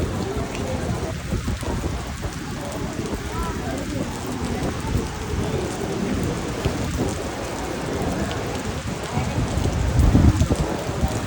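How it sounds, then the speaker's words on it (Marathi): Heavy monsoon rain falls steadily near a coastal temple, a dense close hiss with low thunder rumbling underneath and a louder rumble toward the end, while people talk over it. "पाऊस कंटिन्यू चालू आहे, सगळं भिजायला झालं आहे."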